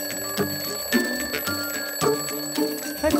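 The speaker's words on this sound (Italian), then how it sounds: "La sveglia? La sveglia, sono le 7." An alarm clock rings in a radio drama, loud and close, its bell clanging in repeated rattling bursts with sustained metallic ringing between strikes.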